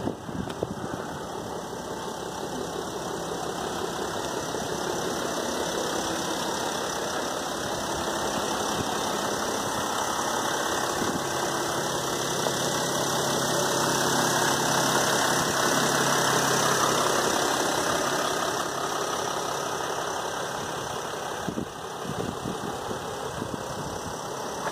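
A Mercedes-Benz Sprinter 4x4 diesel van's engine runs at a steady idle, a continuous close mechanical drone with a faint knocking texture and no speech over it.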